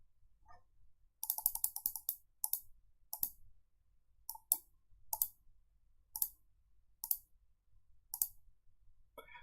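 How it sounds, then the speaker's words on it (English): A computer mouse clicks during an online Dominion card game, with sharp, close, isolated clicks coming in quick bursts and irregular single taps against near silence. "So much clicking."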